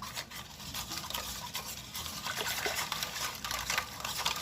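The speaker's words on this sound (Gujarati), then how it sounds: "આ રીતે આપણે પાણી નાખતી જઈને એને હલાવતું જવાનું છે।" Wet, steady stirring of a thin ghevar batter as chilled water is added little by little, a continuous sloshing scrape close by with no talking.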